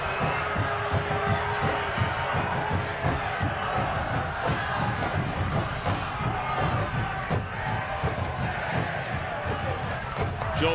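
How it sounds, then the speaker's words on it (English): A soccer stadium crowd at a Detroit City FC match against El Paso Locomotive FC roars and jeers in disapproval, a dense, sustained wash of voices under a commentator's talk. "And the crowd roars in disapproval."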